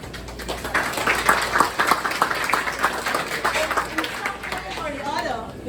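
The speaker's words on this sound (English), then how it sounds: "So today I want to give a round of applause to all of our members who came up and participated." Applause from club members at a Lions Club fundraiser breakfast: steady, dense clapping mixed with crowd chatter through the whole stretch, moderately loud indoors.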